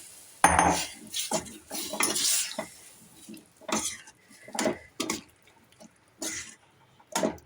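Cooked rajma going into masala in a pan, with a spoon scraping and clinking against the metal in bursts of stirring, plus some wet sloshing between strokes.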